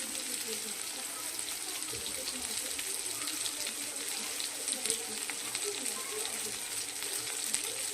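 Eggplant and onion sizzle in a pan of oil for a fish curry, a soft continuous crackling hiss held at a low, even level throughout.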